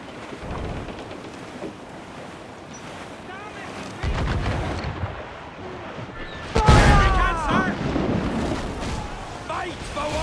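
Ship cannons boom in a naval battle in Assassin's Creed IV Black Flag, heavy blasts rolling out in bursts over a dense din of battle noise, with a loud volley near the end.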